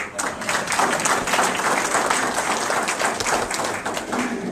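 A room full of veterans gives a round of applause for a speaker's wife seated in the front row, a dense, loud, continuous clapping that holds steady throughout, with a few voices mixed in.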